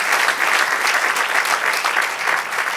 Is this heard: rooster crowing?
no